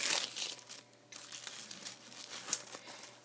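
Packaging around a handmade creation crinkles and rustles in close, irregular bursts as it is wrapped back up, soft and quiet with no talking.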